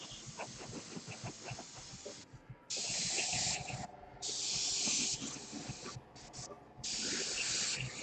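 Airbrush spraying paint onto Space Wolf miniature armour, a steady high hiss in several bursts of about one to two seconds each, close and loud, with faint handling and clicking sounds between the bursts.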